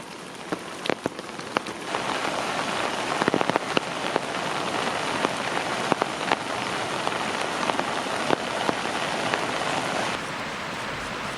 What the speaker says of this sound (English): So that's a lot of rainwater.